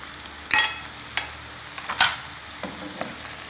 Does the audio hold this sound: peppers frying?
yes